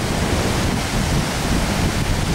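Rough sea water surges and splashes around the Kiama Blowhole on a stormy coast, a dense, steady roar of surf and spray with wind buffeting, continuous and loud with no talking.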